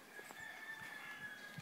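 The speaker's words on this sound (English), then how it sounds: "You can hear the old chickens crowing." Roosters crow faintly in the distance on an early morning outside a hotel in France over a quiet, still outdoor background.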